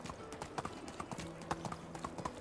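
Horse hooves clip-clop steadily in a rhythmic walking gait in the medieval game Medieval Dynasty, fairly close and clear, with faint game ambience behind.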